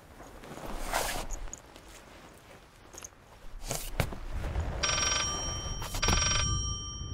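A telephone rings inside the horror video game Layers of Fear, a bright, rattling electronic bell that repeats in short bursts near the end, following shuffling footsteps and low eerie rumbles.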